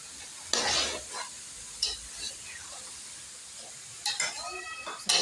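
Mixed vegetables with cauliflower are stirred in a pan, giving a soft steady sizzle with scraping bursts of stirring at intervals, close and moderately quiet.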